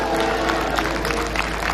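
An audience at a college function applauds, dense steady clapping from a large crowd that fills the room continuously with some murmured voices mixed in.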